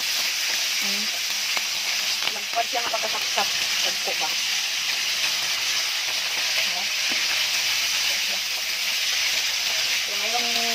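Steady loud sizzling of sapsap fish frying in hot oil, with brief talking over it and a few clinks partway through.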